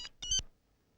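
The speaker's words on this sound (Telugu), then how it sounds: "రాంగ్ టైం లో రింగ్ అవుతుంది." A mobile phone sounds a brief electronic ring, two quick tonal bursts that are fairly faint and then fade into silence.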